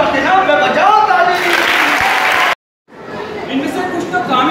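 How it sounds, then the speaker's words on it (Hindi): Audience at an anti-drug, anti-addiction motivational talk claps together in sustained dense applause, with crowd noise and voices mixed in, then a brief total dropout before the clapping resumes at a slightly lower level. "अब बच्चा लो जमुरा के नाम पे बजाओ ताली।"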